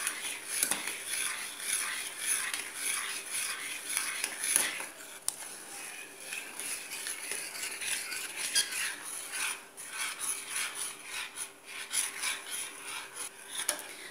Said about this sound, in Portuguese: mexendo sempre também para não grudar no fundo da panela